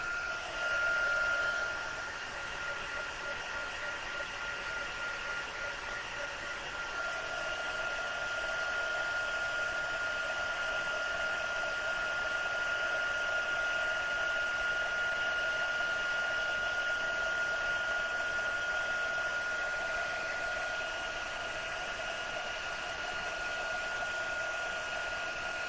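A heat tool blows steadily for the whole stretch, a continuous whooshing hum with a slight shift in pitch, used to heat set a handmade card project in a craft room.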